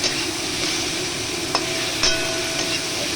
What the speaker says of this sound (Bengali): দেখো বন্ধুরা, এরকম হালকা হালকাই ভাজবো, খুব একটা ভাজবো না।